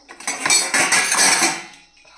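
Tea utensils and pots being washed: close, bright clattering of metal dishes and cutlery knocking together in a quick burst of several clanks, with no talking.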